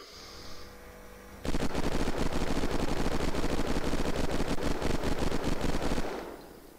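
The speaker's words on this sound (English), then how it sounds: "Hell's Fury. Otherwise called the minigun." Hell's Fury minigun in Unturned 3.0 fires a loud, unbroken high-rate burst lasting about four and a half seconds, each rapid shot blurring into a dense mechanical roar before cutting off into quiet hum.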